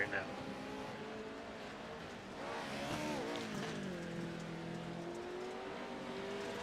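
An off-road racing truck in a Montana Off-Road Series race, its engine pushed hard with a steady roaring drone that rises and dips through a turn, heard at moderate distance under a commentator's voice.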